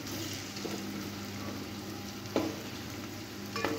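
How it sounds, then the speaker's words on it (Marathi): Chicken pieces frying in a pan of black masala give off a steady, even sizzle that runs throughout, with a couple of brief utensil clicks near the middle and the end. "याला चांगला केशरी कलर येऊतर आपल्याला तळून घ्यायचं."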